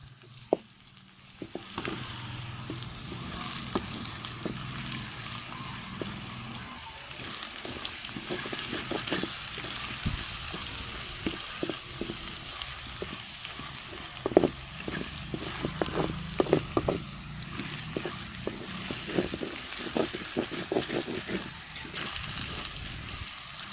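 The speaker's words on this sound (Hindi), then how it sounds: "थूम को अच्छी तरह भून देंगे, लहसुन को ये भी" Garlic fries in a pan with a steady sizzle and crackling throughout, and stirring adds irregular scraping clicks. No one talks.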